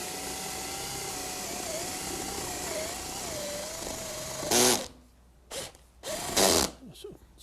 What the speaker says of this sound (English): Excuse me, that's the drill.